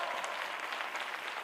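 A church congregation at a Hindi-Urdu worship service claps in loud, dense, sustained applause for the whole stretch, with no voice over it.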